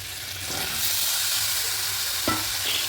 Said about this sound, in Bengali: এবার কেটে রাখা লাউগুলো দিয়ে দেবো